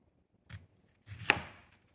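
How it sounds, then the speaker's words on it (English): A knife cutting through a purple coco (taro) root, a soft first crunch followed by a firmer, crisp slice cracking through the dense flesh, close and isolated in a quiet room. "So I'm gonna cut this one to let you see what it looks like on the inside."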